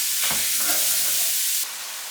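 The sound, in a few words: sausage browning in a pan with diced onion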